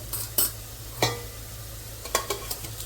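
Fenugreek roasting in a pan at the start of a mixed dal, giving a soft steady sizzle with several sharp scrapes and stirring knocks of a utensil against the pan, close and with no talking.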